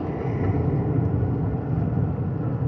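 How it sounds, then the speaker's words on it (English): Steady low rumble from inside a car moving along back roads, engine and road noise droning evenly without a break, with no voices. "I don't know if my car's too loud"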